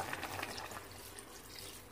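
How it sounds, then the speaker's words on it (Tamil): Water pours steadily into a cooking pot while chicken soup is being prepared, a soft continuous splashing and trickling close by with no talk over it. "இப்போ பாருங்க, இதில் நான் தண்ணி ஊற்றுறேன்."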